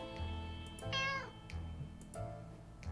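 A cat in the video game 60 Seconds meows a few times, short clear calls rising and falling over a low, steady game hum.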